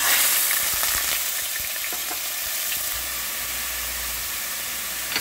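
Onion paste hitting one and a half tablespoons of hot vegetable oil in a pan, a loud hissing sizzle that settles into a steady crackle with scattered small pops and stirring taps.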